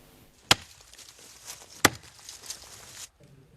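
West African rosewood trees being illegally felled in Casamance, southern Senegal: two sharp, loud chopping strikes land about a second apart, with a faint rustle and softer knocks between them outdoors.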